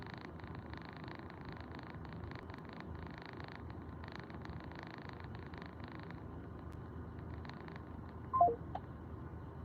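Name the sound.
telephone keypad dialing tones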